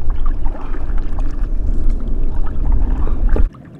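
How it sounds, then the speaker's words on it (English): Electric trolling motor pushing a canoe across a lake, a steady low churning hum with water and wind rumble, close, cutting off abruptly near the end. "Been using this trusty trolling motor."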